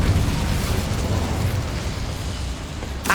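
An Incendio fire spell in Hogwarts Legacy produces a dense, roaring blast of sound that holds steady and loud throughout, ending with a sudden sharp burst.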